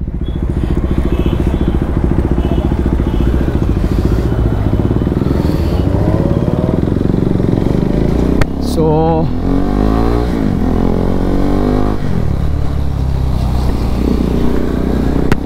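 An Aprilia RS 457 and a Kawasaki Z900 idle close by, a loud, continuous low engine rumble with a brief rev and throttle swell partway through, while voices chat over it.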